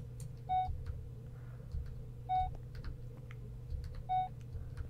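Three short electronic beeps of the motion tracker in the video game Alien: Isolation repeat at an even, slow pace over a low steady hum, clear and fairly close, with no talking.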